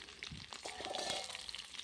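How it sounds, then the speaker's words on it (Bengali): Cauliflower pieces fry in plenty of oil in a pan over a clay stove, giving a soft, continuous crackling sizzle, faint and close, with no talking. "ফুলকপিগুলো ঢাকা দিয়ে দিয়ে ভেজে নেবো তাহলে সেদ্ধ হয়ে যাবে ভাজাও হবে"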